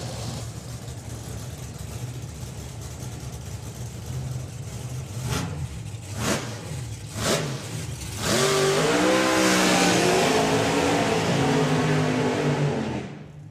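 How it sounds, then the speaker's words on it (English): Nostalgia front-engine dragsters at a drag strip do side-by-side smoky burnouts, first a few sharp engine blips and revs, then a loud sustained roar with wavering tyre-spinning engine pitch that holds steady before cutting off near the end. "Two great side-by-side smoky burnouts from the Nostalgia Dragsters."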